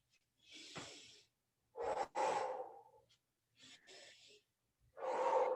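Deep yoga breathing during a slow flow session, with four separate breaths of alternating inhales and exhales, each an airy rush lasting about a second. The breaths are close and clear, separated by brief silences.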